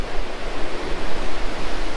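Ocean surf on the French coast in the south of France, a loud, continuous broadband roar of breaking waves with gentle swells in intensity, no voices.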